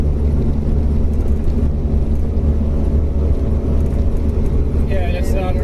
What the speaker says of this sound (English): So now we're in fourth gear, everyone, going across the Darling Causeway.